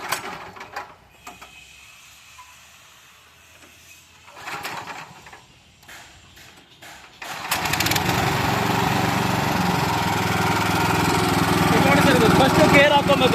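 A Vagmine Agro Tech stubble mower engine is started up and runs steadily, loud and close, after some quieter handling noise and brief voices; the motor holds a continuous droning roar to the end.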